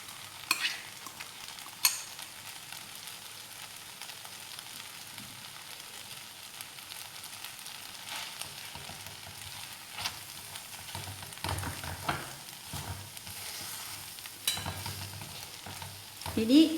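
Raw banana slices for thoran being stirred with crushed coconut, green chili and garlic in a pan, giving soft intermittent scraping and clinks over a faint steady sizzle, close and fairly quiet, with no talking.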